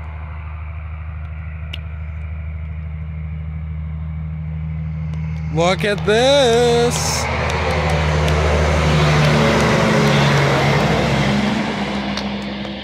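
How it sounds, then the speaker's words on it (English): A truck passes on a road at night: an engine drone builds, a brief horn-like tone sounds midway, then a loud close roar sweeps by and fades slightly. A voice speaks briefly over it. "there's a truck coming now"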